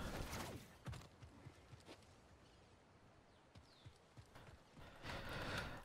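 Horse hooves clip-clopping in the video game Star Wars Jedi Survivor, irregular quiet hoofbeats with a few creaks and faint ambient game sounds, no talking.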